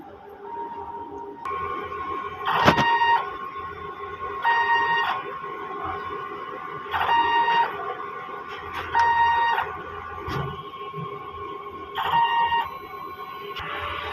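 A DTF printer runs a head-cleaning cycle on its print head and capping station. It gives off a string of evenly spaced tonal whirring pulses about every two seconds, close up and steady, with no voices.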